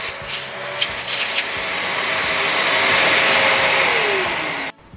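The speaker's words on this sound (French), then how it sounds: "mon aspirateur fonctionne et il aspire" A vacuum cleaner with a freshly unclogged hose runs with a loud, steady roar and a whining motor tone that slowly drops in pitch before cutting off abruptly.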